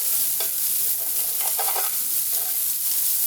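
Browned tofu tossed in a hot frying pan, a loud steady sizzle with brief scraping and rustling bursts as the pieces are flipped, heard close up without speech.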